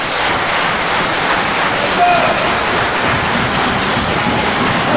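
A sold-out wrestling arena crowd cheers and roars steadily, a loud, dense wash of noise like heavy rain with no breaks.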